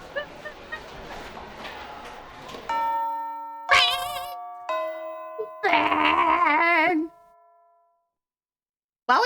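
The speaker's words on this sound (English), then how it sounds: "the bell from homeroom rang" A school homeroom bell rings out as a chiming ding-dong tone in a few separate bursts, fairly loud and near, following a stretch of talk and background chatter.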